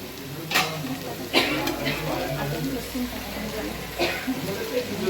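Onion, garlic and tomato sauté in a pan for Khandeshi varan batti, giving a steady low sizzle broken by a few sharp scrapes and knocks of a stirring spoon while someone talks throughout.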